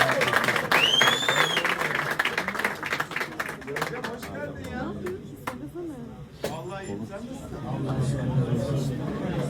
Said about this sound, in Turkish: Alkış Adem Reis'e